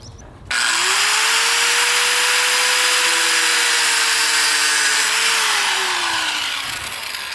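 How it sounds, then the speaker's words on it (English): An angle grinder cuts metal on a car project for an LS1-swapped BMW E36, a loud, steady high-pitched whine with harsh broadband grinding noise that starts abruptly and holds for several seconds before easing slightly. "What are you using to cut it? Angle grinder."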